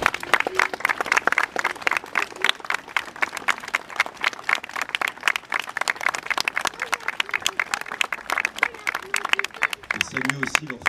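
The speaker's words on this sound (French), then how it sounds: "je voudrais qu'on les applaudisse vraiment très très fort" A crowd at a Bastille Day ceremony in Barentin, France, applauds local firefighters with steady, loud clapping that holds for about ten seconds, close and continuous, with a few murmuring voices near the end.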